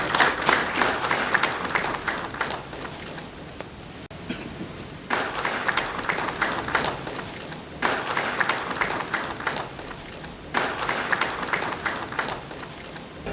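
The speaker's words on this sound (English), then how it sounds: "Can we please give a big round of applause" An audience at a formal Sri Lankan ceremony honouring a Supreme Court justice breaks into applause, with dense rippling clapping rising and falling in several waves and a brief lull near the middle.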